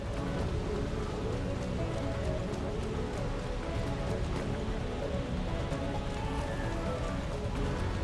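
Steady, dense rain from the Final Fantasy XVI video game, a continuous wash of falling water and drops on surfaces that holds at an even, fairly loud level throughout, with no other clear sounds standing out.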